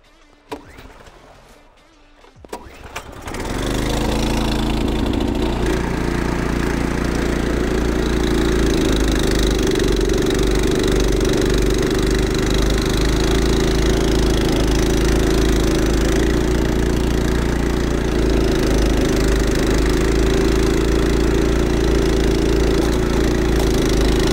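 Evoline Standard series two-stage wheeled snowblower engine starting up and then running steadily, a loud continuous mid-pitched drone with a constant hum that holds for the rest of the stretch.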